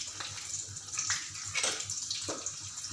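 Onion and curry leaves sizzle in hot oil, a steady bright crackling hiss with irregular louder spits, heard close and alone.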